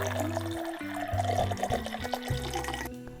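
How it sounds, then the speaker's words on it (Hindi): Water pours from a tap into a bowl of sliced potatoes in a continuous rushing stream, with a steady background hum running under it. "साथ ही पानी शामिल कर देंगे"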